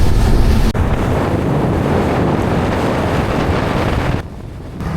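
Strong wind buffets the microphone while out on the open water fishing off Ningaloo, a loud, constant roar with a brief dip near the start and a quieter patch near the end.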